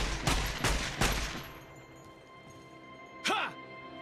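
Gunfire from the game Fallout: New Vegas: three quick loud shots in a tight burst, then quieter background ambience and a brief voice later on.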